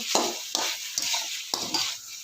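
Ginger, garlic and spices fry in a pan while being stirred, giving a soft steady sizzle broken by four or five regular scraping strokes, close by and with no talking.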